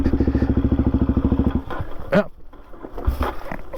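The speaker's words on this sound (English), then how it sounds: "that almost sort of clutch started it, but didn't." A Suzuki DRZ400E dirt bike being clutch started on an off-road track: the engine thumps in a fast, even, loud rhythm for about a second and a half, then dies away into scattered clatter and rustling.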